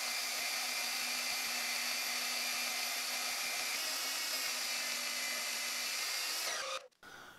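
A power tool whines at a steady high pitch for several seconds while cutting a slot in a block, then spins down and stops.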